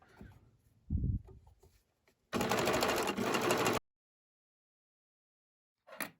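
Sewing machine running a cover stitch along a t-shirt hem, a loud steady motor whir for about a second and a half, preceded by handling thumps and followed by silence and a brief final whir.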